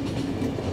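A steady rumbling train rolls along in the video game The Final Station, a continuous low mechanical drone with a faint rhythmic rattle, heard briefly on its own.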